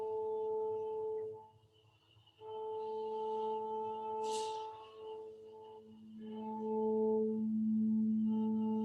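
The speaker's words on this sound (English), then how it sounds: "So it turns the pitch into a sine tone." Pure sine tones derived from the pitches of a live music recording sound as steady layered hums that shift between held pitches, with a brief noisy burst in the middle.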